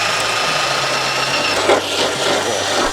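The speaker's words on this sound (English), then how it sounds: "get yourself a drill. Drill through the boot." A power drill bores through the boot lid of an Astra VXR to fit a large spoiler, a steady loud close grinding whine with a brief surge in the middle.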